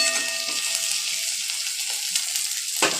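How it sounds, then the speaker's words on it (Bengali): Onions fry until reddish-brown in a pan for a yogurt chicken curry, a continuous close sizzle and hiss with occasional stirring, and a brief clatter right at the end. "পেঁয়াজটা লাল লাল করে ভাজা হচ্ছে, আর একটু হবে।"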